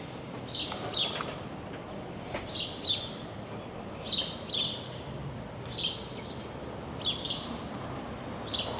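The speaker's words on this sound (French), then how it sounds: "On entend un petit oiseau ce matin qui sont bien contents." A small bird chirps in the morning behind a residential condo in Ahuntsic. Its short, bright calls come in brief clusters every second or so, faint and a little distant, over quiet background hum.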